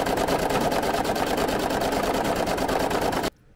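Embroidery machine stitching a design, a fast regular mechanical chatter running steadily and close before stopping abruptly near the end.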